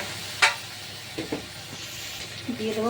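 Mutton and tomato frying in hot oil, giving a steady low sizzle with a sharp crackle near the start, a few soft stirring knocks, and a faint voice-like tone toward the end.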